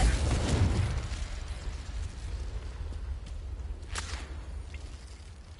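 A Confringo blasting spell bursts loudly at the start in a video game, its boom tailing off into a low rumbling hiss, with a faint crackle or pop near the end.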